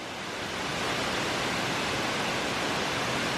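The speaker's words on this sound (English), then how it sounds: "Waterfall" Steady broadband rush of the Cascade de Marie waterfall in the Corsican mountains, heard close and continuous, a dense hiss of falling water with no breaks.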